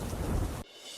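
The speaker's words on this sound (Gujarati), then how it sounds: "યાત્રાધામ બેટ દ્વારકામાં ભારે વરસાદ." Heavy monsoon rain pours at the Bet Dwarka pilgrimage town, a dense, loud roar with thunder-like rumble, then cuts abruptly to a quieter hiss after about two-thirds of a second.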